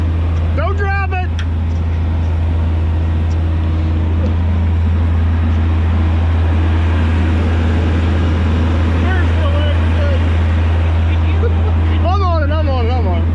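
A Hyundai HX145 LCR excavator works steadily, handling heavy 4000-pound retaining blocks, its engine drone loud and constant throughout while people talk over it.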